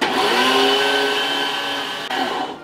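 An electric meat grinder minces bacon and beef with a loud, steady motor whine that holds evenly, dips for a moment, then winds down at the end.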